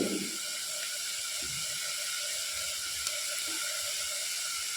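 Masala spices frying in a pan for a ridge gourd gojju, a steady close sizzle and hiss running throughout with no talk.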